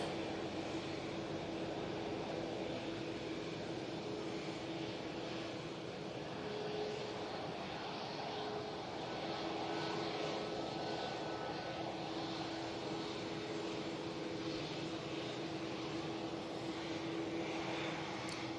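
An Etihad airliner at Manchester Airport drones steadily in the distance, a faint, sustained jet-engine rumble with a low tonal hum and no voices.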